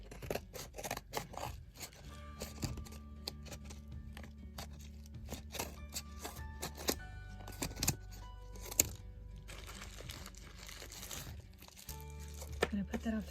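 Scissors cut open a package holding a custom cat toy, with a run of crisp snips, crinkling packaging and scraping in irregular bursts, close by. A person talks softly now and then.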